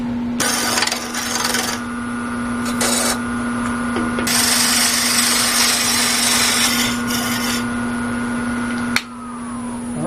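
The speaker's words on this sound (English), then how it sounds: "Now I'm going to turn a tenon on this end to fit my chuck." A wood lathe turns a tenon on a backscratcher, with a steady motor hum under rough, scraping cutting passes in bursts and a sharp knock near the end.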